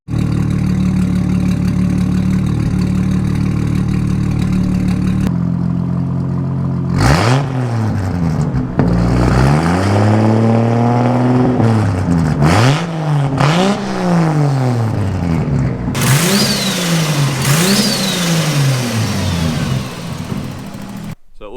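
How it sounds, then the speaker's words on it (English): A Nissan R31 car engine with a straight-through 3-inch mild steel exhaust, no mufflers or catalytic converter, idles loudly up close, then revs repeatedly in rising and falling blips with a raw, unmuffled drone. "The exhaust is just a straight through 3-inch, no mufflers or anything, no catch, just straight through 3-inch mild steel."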